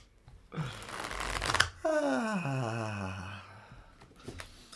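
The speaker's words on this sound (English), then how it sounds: "The rustle of the cards was the perfect prelude." Playing cards are shuffled up close: a dense riffle burst followed by a softer bridging cascade, then a few light taps, with a brief tonal sweep in between and no speech.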